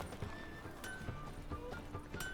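Horse hooves clip-clop on the ground in The Witcher 3 after the rider dismounts, a few distinct hoof strikes close by over a steady game ambience, with a brief whinny.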